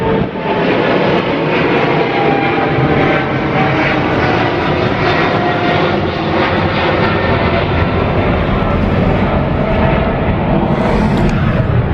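A fixed-wing airplane passes overhead outdoors after a gym workout, a loud, steady engine roar filling the whole stretch with no voice over it.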